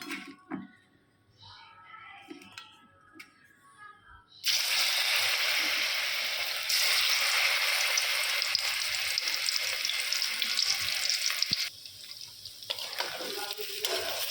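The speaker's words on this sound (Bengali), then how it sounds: "তেল গরম হচ্ছে" Oil heats in a pan for cauliflower and potato fritters. After a few seconds of quiet, low kitchen sounds, a loud, continuous, close sizzle starts and carries on to the end.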